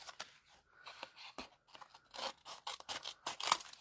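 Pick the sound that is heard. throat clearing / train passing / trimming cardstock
trimming cardstock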